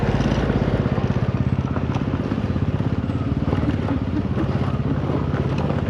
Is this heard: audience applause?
no